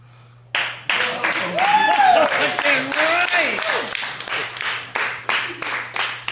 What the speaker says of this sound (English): I feel like y'all can clap louder than that.